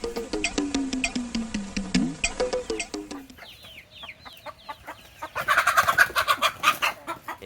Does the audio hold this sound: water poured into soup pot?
no